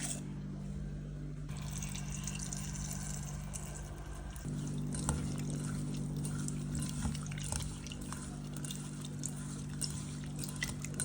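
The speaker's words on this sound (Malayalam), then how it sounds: "നമുക്ക് അതിലേക്ക് വെള്ളം ഒഴിച്ച്" Water pours steadily into a bowl of grapes and salt for washing, a continuous close splashing flow that grows slightly fuller partway through.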